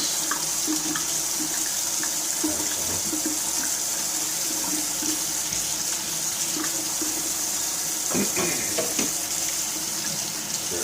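Parts of an Omega VSJ843 vertical slow juicer rinsed under running tap water, with a steady close gush of water and occasional clatters of plastic pieces being handled in the sink.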